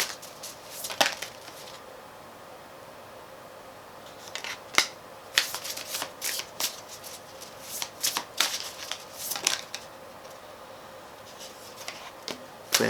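Tarot cards are shuffled by hand in repeated quick riffling bursts and soft slaps, close and crisp, separated by quieter pauses, heard alone without speech.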